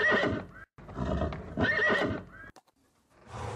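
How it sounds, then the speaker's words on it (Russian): A cartoon horse neighs twice in long, loud, bright whinnies, each followed by a short pause, in a children's educational animation; a soft rustle follows before a further sound begins. "Это лошадь. Она ржет. Иго-го!"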